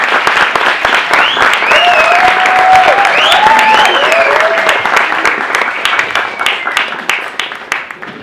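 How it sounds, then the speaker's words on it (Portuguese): A talk audience gives a loud, sustained round of applause for the actor Aílton Graça, dense clapping with a few cheering voices rising above it throughout. "pedir o aplauso de vocês para o Ailton Graça"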